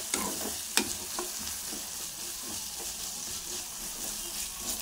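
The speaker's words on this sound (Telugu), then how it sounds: "చూడండి, దాన్ని కూడా కొద్దిసేపు వేయించుకోవాలి." Tomato pieces frying and being stirred in a pan while making rava upma, a steady sizzle with a few sharp spatula scrapes and clicks against the pan, close by and with no talking.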